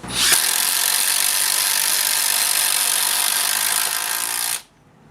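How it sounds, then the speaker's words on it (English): A 36-volt Hikoki cordless hammer drill whirs loudly and steadily for over four seconds driving a screw into wood, then stops abruptly, leaving quiet room tone. "on the 36 volt Hikoki hammer drill"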